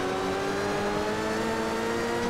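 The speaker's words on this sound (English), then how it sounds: "A lot of wheel spin. Trying to get off the line." Rally car in Richard Burns Rally at a Mikolajki super special stage in Poland, its engine held at high, steady revs as the wheels spin off the line, loud and droning throughout.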